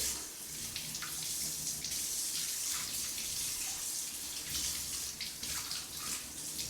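Water runs steadily from a tap, a loud, constant splashing hiss close by with no talking.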